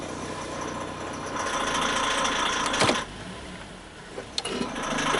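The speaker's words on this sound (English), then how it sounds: "Terrible sound. It's really, really laboring." Hyundai car engine laboring in gear during unintended acceleration testing, a strained steady drone with a whining tone and a couple of sharp clunks, heard close inside the car.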